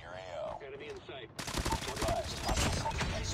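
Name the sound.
sentry gun turret firing in a video game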